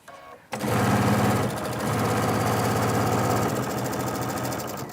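A sewing machine stitches a quilted table runner, running steadily and loudly for several seconds after a quiet start, its rapid even needle rhythm slowing slightly near the end.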